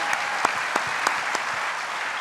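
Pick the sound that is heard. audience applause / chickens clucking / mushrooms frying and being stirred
audience applause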